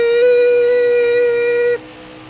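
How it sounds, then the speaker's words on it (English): A sustained censor bleep tone plays loud and steady for nearly two seconds over a NASCAR Heat 5 racing game, then cuts off abruptly to a quieter background. "Bleep."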